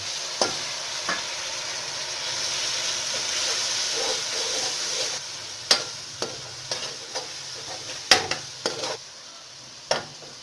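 A spoon scrapes and clacks against a pot while keema matar masala sizzles steadily as it fries to light brown, with sharp metallic taps growing more frequent toward the end.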